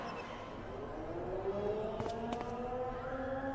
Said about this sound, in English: And what is with the siren? You guys hear that, right?